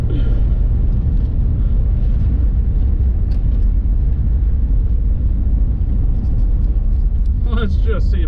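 A 1960s car drives along a dirt road, its engine giving a steady low rumble with road noise throughout, with a brief burst of higher clatter near the end.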